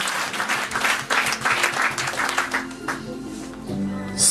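Church congregation applauding together, a steady wash of many hands clapping with a few voices mixed in, fairly loud and sustained throughout.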